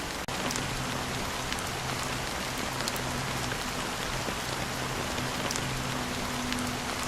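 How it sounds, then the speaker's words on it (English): Rain pours steadily in the video game Honkai: Star Rail, a dense, even hiss of falling drops that lasts throughout with a faint low tonal hum beneath and no voices. "how long has this rain been going on for?"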